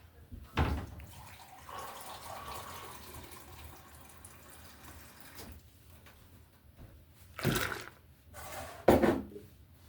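Hot water splashes and pours in short bursts while making homemade laundry detergent, with quiet stretches between a few louder gushes near the start and end.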